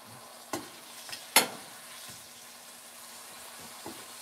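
Bacon fries quietly in a small pan, a faint soft sizzle broken by a few clicks and knocks of stirring, one sharper clatter early on.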